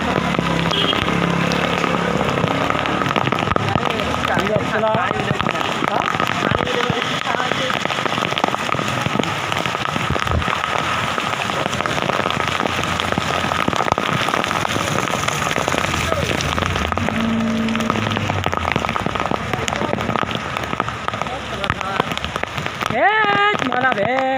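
Steady rain falling in a village, a dense continuous patter on surfaces that lasts throughout, with brief crackling drips and a few faint voices in the background.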